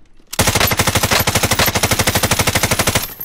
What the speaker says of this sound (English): Right there when I'm shooting.